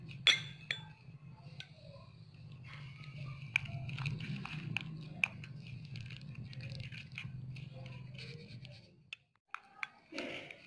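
A spoon scrapes and clinks steadily against a bowl while sandalwood powder and oats are stirred together, a low rubbing texture under repeated light taps, ending in a few sharper knocks.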